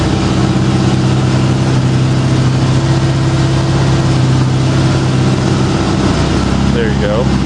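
A motorcycle engine idles steadily after a spring cold start, holding a loud, even, low rumble that stays constant from start to finish with no talking over it.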